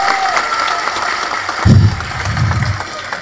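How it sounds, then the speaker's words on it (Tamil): A crowd at a Tamil movie audio launch gives a burst of applause, a fairly loud, continuous wash of clapping with some low rumble underneath. "அவனுக்கு ஒரு பலத்த கரகோஷம் கொடுங்க"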